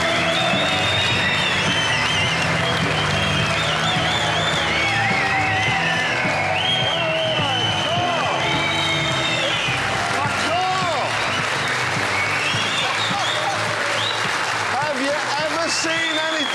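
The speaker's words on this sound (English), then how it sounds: "I want a huge round of applause." A studio audience applauds and cheers loudly, with whoops and shouts over continuous clapping, while a presenter talks over the noise.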